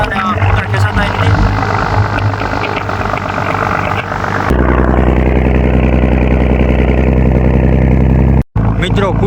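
A small fishing boat's motor runs steadily and loudly at sea, a continuous droning engine hum throughout. The motor is straining to pull in the hot sun. A voice talks over it.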